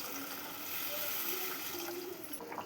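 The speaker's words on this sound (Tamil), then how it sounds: "குழம்புக்கு தேவையான தண்ணி ஊற்றிக்கலாங்க." Water poured into a pot of mutton curry (kulambu) on the stove, a steady faint gushing and trickling that runs throughout, with no voices.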